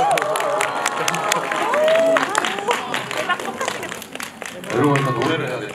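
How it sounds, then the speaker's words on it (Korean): At a cinema stage greeting at CGV Centum City, an audience applauds and cheers as actors and the director come out, a loud swell of clapping with shrill cries and crowd voices mixed in. "큰 박수로 환영 부탁드릴게요."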